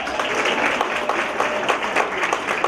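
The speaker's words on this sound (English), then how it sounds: "give another round of applause" Audience applause at a fashion show, a dense steady clapping from a crowd that stays loud and even throughout with no voices over it.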